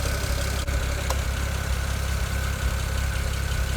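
A BMW N54 engine with 156,000 miles and worn piston rings idles steadily close by, a continuous low rumble with a faint tick running through it and one brief click. Nobody talks over it.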